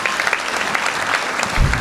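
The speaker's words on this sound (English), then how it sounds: "give them a big round of applause" A school annual day audience gives a brief, dense round of applause, steady and fairly loud, with a low thump near the end.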